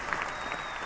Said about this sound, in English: It's the Kung Fu applause, a little delayed applause, right?